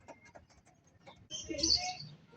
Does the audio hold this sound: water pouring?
no